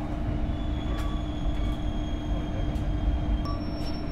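Riding aboard the Bogowonto executive train near Cirebon, a steady loud rumble of wheels on rails fills the carriage, with faint high squeals and clicks drifting in and out.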